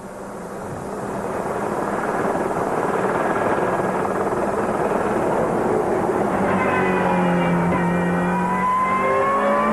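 A 2001 Super Touring Alfa Romeo race car pulls out of the pit road at Magny-Cours, its engine note building steadily and then rising in pitch as it accelerates away, loud and continuous with no talking.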